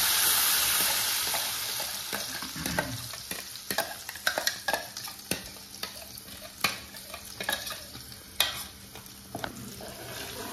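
Masala for a Konkani fish curry sizzles in a pan while a spoon scrapes and knocks through it, close irregular clatter over a steady frying hiss that fades slightly after the first seconds.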